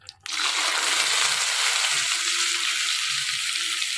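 Oil in a pan bursts into a loud hissing sizzle after a brief quiet start as boiled fig (dumur) goes in to fry, then holds steady and close with faint kitchen noises underneath.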